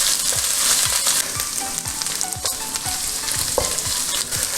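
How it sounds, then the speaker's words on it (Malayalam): Ginger, garlic and green chili paste frying in hot oil for mutton roast, with a loud steady sizzle and repeated rhythmic scraping strokes of a spoon stirring the pan, close up, no speech. "ഇവിടെ അതിൻ്റെ പച്ചമണം ഒന്ന് മാറുന്നത് വരെ ഇളക്കി കൊടുക്കാം."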